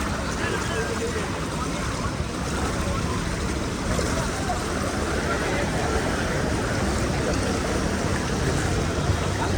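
Rainwater rushes along a street in Surat after two to three hours of heavy rain, a steady loud broadband wash of flowing water that continues without a break for the whole stretch.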